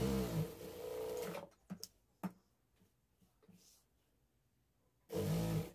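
A sewing machine stitches the lining of a blouse made from saree fabric, whirring in a close burst, pausing with faint clicks and handling sounds, then running again.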